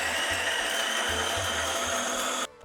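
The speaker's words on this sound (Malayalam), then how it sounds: "1 ടീസ്പൂൺ ജീരകം, 1 ഇഞ്ച് ഇഞ്ചി കഷ്ണം അരിഞ്ഞത്, 4 വെളുത്തുള്ളിയുടെ അല്ലി നന്നായി അരയ്ക്കുക." A mixer grinder whirs as it grinds cumin, ginger and garlic, a loud, steady close motor whine that holds for a couple of seconds and then cuts off abruptly, with no talking.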